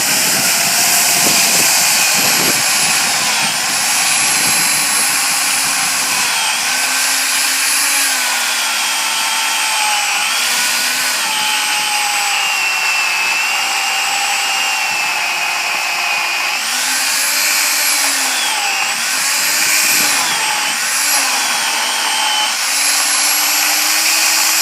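A Makita UC4030A corded electric chainsaw cuts through a log of about 14 to 15 inches, its motor whining loud and steady up close while the pitch dips and rises as the chain bites into the wood.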